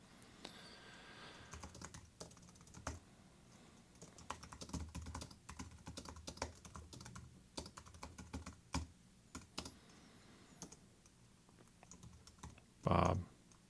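Steady typing on a computer keyboard while writing a script in Celtx, soft irregular key clicks continuing throughout with occasional louder taps and a brief loud knock near the end.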